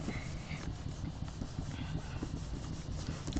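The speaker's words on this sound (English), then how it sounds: "Really just burnish it." Paper rubbed firmly against a gel printing plate during a printmaking session gives a soft, continuous scuffing sound. It is close and faint, with short rhythmic strokes and no voices.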